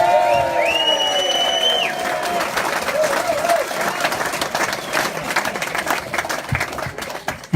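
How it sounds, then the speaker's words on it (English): A clubhouse crowd after a Plymouth Albion rugby win claps and cheers for the team, thick sustained applause building after a few voices and whoops at the opening. "Give them a round of applause."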